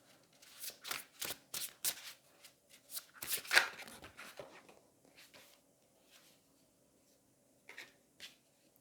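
Oracle cards being shuffled by hand in a quiet room, a rapid series of crisp riffling slaps and flutters, with a sharp snap as one card drops out, followed by near silence and two soft final taps.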